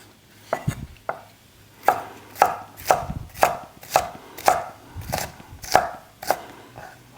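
A knife slices a bell pepper into strips on a cutting board, about a dozen crisp, evenly spaced chops in a steady rhythm, close and clear, with no talk.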